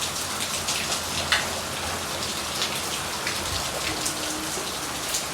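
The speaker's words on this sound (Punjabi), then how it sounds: "ਨਾਲ ਦੀ ਨਾਲ ਮੀਂਹ ਲੈ ਪਿਆ" Steady rain falls throughout, a dense even patter on surfaces with no voices, holding at a constant moderate level.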